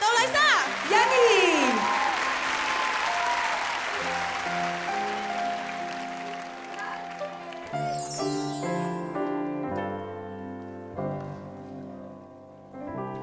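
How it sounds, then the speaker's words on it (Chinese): A studio audience at a 2014 TVB variety show claps in a loud burst that slowly fades, while music swells over it and then carries on alone. "请大家俾热烈嘅掌声俾 Teresa 老师、杜丽莎、 欣儿"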